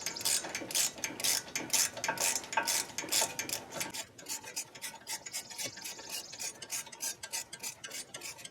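A hand ratchet clicks rapidly while tightening the front brake caliper bolts on a 2013-2019 Ford Escape, crisp metallic bursts repeating close up, slowing into spaced clicks toward the end.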